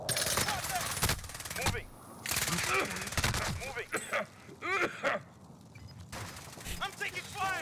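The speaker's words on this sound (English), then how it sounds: "I'm taking fire." Gunfire in a Warzone battle royale match: rapid machine-gun bursts and scattered single shots, loud and close, under repeated voices calling out.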